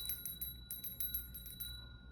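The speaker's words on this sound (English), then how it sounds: "I'm going to ring a bell here." A small bell rings with a sustained, clear tone repeated in light strokes, fairly faint over a steady background hum, with no talk.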